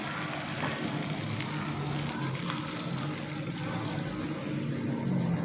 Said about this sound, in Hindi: मैं इसे अपने तड़का पैन पे तड़का दे देती हूँ